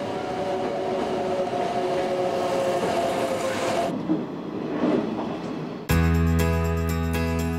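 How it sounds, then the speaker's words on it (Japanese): Hokushin Kyuko 7000 series electric train on a line crossing Mount Rokko, rumbling and clattering loudly and steadily, then a sharper, brighter tonal whine and hum as it passes close by near the end. "北信急行電鉄の7000系だ。"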